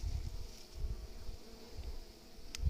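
Honeybees from a beehive during feeding, a steady faint insect drone with low rumbling handling noise and one short high burst near the end.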